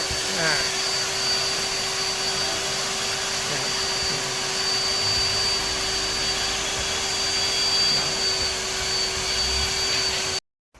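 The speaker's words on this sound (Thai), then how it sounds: "จัดการดูดฝุ่นนะครับ เช็คทำความสะอาด ด้านหลังหน้าปัดให้" A vacuum cleaner runs steadily and loudly, cleaning the dashboard area behind the instrument panel of a Toyota Vigo, with a constant motor whine throughout before it cuts off abruptly at the end.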